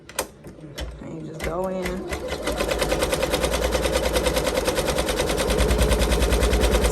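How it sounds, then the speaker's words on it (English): A computerized embroidery machine runs a placement stitch for an in-the-hoop elf sweater design, starting after a short spoken remark and settling into a loud, steady rapid needle chatter that continues to the end. "put this on the machine and do a placement stitch"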